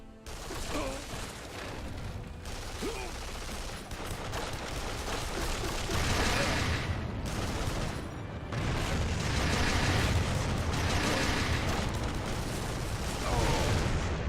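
Gunfire from a weapon in Duke Nukem Forever on Xbox 360: a dense, loud run of shots and blasts over roughly fourteen seconds, with brief lulls between bursts.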